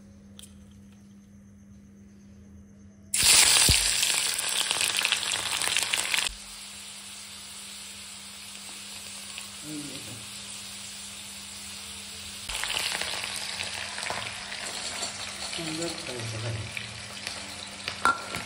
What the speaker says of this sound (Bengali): তেল গরম হয়ে গেছে, এবার পেঁয়াজগুলো দেবো